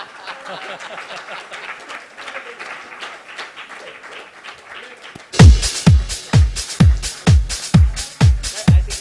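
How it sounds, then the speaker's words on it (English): An audience at a broking industry convention session claps, starting as scattered light clapping and swelling into loud, rhythmic applause, with a few voices early on. "Let's have a round of applause once again."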